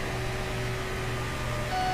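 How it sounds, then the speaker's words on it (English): A steady electronic tone hums with a faint repeating beep pattern, like a hospital monitor machine, in the racing video game NASCAR 15, continuous and moderately loud with no talking. "That sounds like one of those machines at the hospital when you're hooked up to it"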